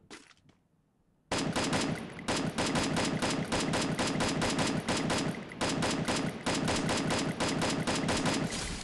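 Rapid automatic gunfire from Free Fire, a mobile battle royale shooter, bursts in after a quiet second and stays loud and dense with near-continuous shots and brief gaps.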